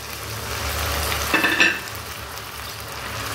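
Coconut milk poured into a pan of frying katla fish curry, producing a steady close sizzle and bubbling hiss with a brief sharper splash and crackle partway through, no talking.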